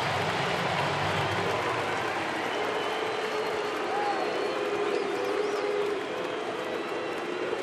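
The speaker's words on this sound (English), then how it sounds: "Crowd chanting Luke" A baseball stadium crowd roars and chants during a Reds at Brewers game, a broad, sustained wall of many voices at a constant loud level that fills the whole stretch.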